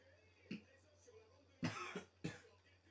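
A few short, sharp coughs from a person, quiet and close, one faint at first then two stronger bursts about a half-second apart near the end, over a steady low hum.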